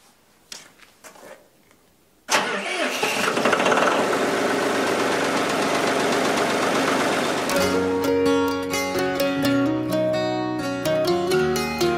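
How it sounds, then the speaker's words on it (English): A tractor engine cranks and catches after a quiet start, then roars into a loud, steady running note with knocking pulses in a cold winter setting, settling into a rhythmic idle. "I want to see if the tractor will start."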